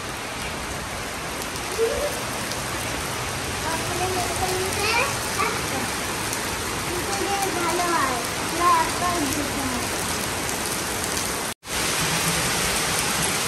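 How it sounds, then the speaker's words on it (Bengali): Heavy rain pours down steadily, a dense close hiss of drops hitting surfaces and plants that runs without a break, with voices talking faintly underneath. "এই দেখো কি বৃষ্টি হচ্ছে, বাবারে বাবা।"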